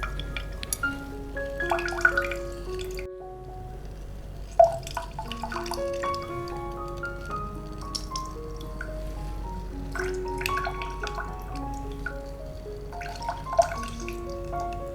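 Lemon juice drips and trickles into two glasses while making masala shikanji, with a run of bright, close plinks and splashes, some ringing tones, and a soft liquid patter throughout.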